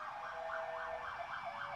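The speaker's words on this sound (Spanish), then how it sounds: "Espérenme que va a pasar una patrulla." A police patrol car siren wails steadily in a rising and falling pattern, passing nearby on a city street near a police station, loud and continuous with no talk over it.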